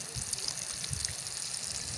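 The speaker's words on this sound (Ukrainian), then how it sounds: "Річка у нас тече, от така прекрасна, тиса, чистенька." The Tisza river flowing, a soft and steady rushing wash of water heard from nearby, quiet and continuous with no talking.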